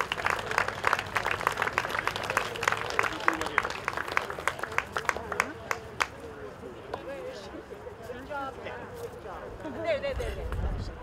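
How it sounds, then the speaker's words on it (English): Applause at an outdoor Truth and Reconciliation flag raising ceremony in Swift Current: scattered, fairly close claps that are strongest early and thin out, with voices talking and murmuring underneath as the clapping fades. "So please give a round of applause"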